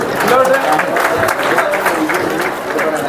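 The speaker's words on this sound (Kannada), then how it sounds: "ಜೋರಾಗಿ ಚಪ್ಪಾಳೆ ತಟ್ರಿ" A crowd claps at a mass wedding ceremony, a dense, loud patter of many hands, while a voice talks over the clapping.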